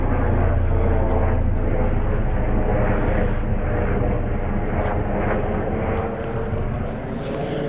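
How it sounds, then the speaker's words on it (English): A loud, steady helicopter rotor-and-engine roar fills the whole stretch over a waterfowl preserve, droning continuously overhead with no pauses and slowly easing off near the end. "I hear a helicopter."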